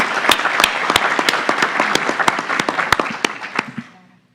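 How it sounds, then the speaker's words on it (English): Applause from the audience at a board of trustees meeting, a steady burst of clapping with sharp individual claps standing out, lasting a few seconds before fading out. "I think we should give Alex Smith a round of applause for his efforts"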